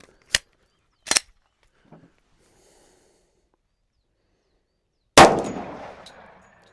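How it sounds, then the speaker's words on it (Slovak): A 10mm Auto pistol loaded with 180-grain Ares bullets fires a single sharp, loud shot whose blast rings out and decays over about a second, preceded by a few faint clicks and breaths. "Pozor, strieľam."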